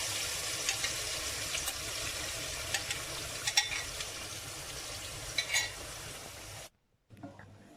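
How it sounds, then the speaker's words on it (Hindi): Ground spices sizzling and frying in hot oil for a spicy chicken liver dish, a steady crackling hiss with occasional stirring scrapes and clinks of a utensil against the pan, ending in a sudden stop. "तेल हमारा गर्म हो चुका है, और अब हम इसके अंदर डालते हैं तमाम चीज़ें जो कि हमने ग्राइंड की हैं।"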